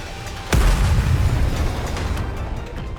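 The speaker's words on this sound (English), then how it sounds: "The missiles have no homing ability. It's just firing wildly!" Missiles firing wildly and exploding in the NIKKE video game: one sharp, loud blast followed by a long, rumbling roar of explosions that slowly fades.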